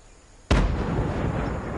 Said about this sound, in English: Is it just me or did that explosion scare you?